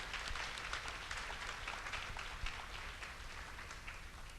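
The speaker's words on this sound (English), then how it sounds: "Can we get a round of applause for that" An audience at a women's community fundraiser film event applauds, a soft, steady wash of clapping heard from a distance at low volume, with one sharper clap standing out midway.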